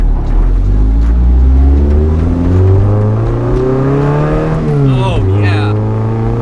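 A Mazda NC Miata fitted with a Jet's Integral Kobe N-Zero muffler accelerates hard, its loud, close exhaust note climbing steadily before a brief dip at a gear change and then rising again.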